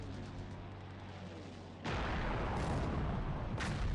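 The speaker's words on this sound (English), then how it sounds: "Doing some strafing on this little ship that was set here in port" Aircraft strafing a ship in port in the War in the Pacific video game: a low steady rumble gives way to a loud, dense burst of gunfire and explosive crackle that continues to the end, with sharp bursts standing out.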